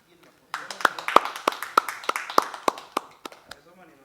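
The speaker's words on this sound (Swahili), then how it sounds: "Piga makofi, piga makofi." An audience at a church youth talk show claps hands, a burst of sharp, irregular claps that swell and then thin out over a few seconds.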